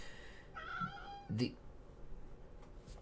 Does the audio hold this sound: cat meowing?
yes